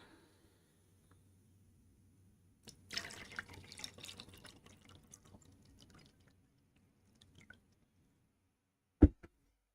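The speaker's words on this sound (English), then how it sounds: "And I can pour some more water." Water poured, a soft trickling splash for a few seconds, quiet and fairly close, then near silence and a single sharp knock or clunk near the end.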